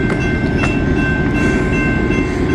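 A 306-axle freight train rolls steadily past close by on the main track, a continuous loud heavy rumble with faint wheel squeal overtones and no gaps throughout.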